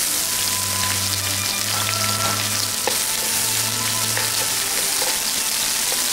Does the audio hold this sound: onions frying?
yes